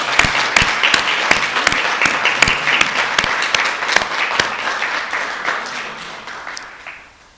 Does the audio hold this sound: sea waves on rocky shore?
no